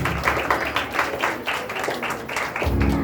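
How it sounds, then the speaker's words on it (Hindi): A church congregation clapping together to welcome the Holy Spirit during a Hindi worship service, with rhythmic crowd applause, ending in a low sustained tone. "हम ताली बजा के पवित्र आत्मा का स्वागत करें।"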